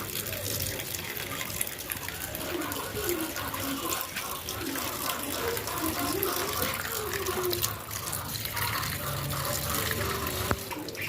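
Water splashes and sloshes steadily as okra is rinsed and shaken in a bucket at a household tap, a continuous close wash with a voice speaking intermittently over it.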